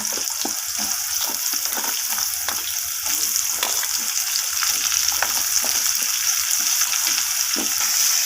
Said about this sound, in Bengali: আলু আর কুমড়োটাকে এইভাবে নাড়াচাড়া করে ভালো করে ভেজে নিতে হবে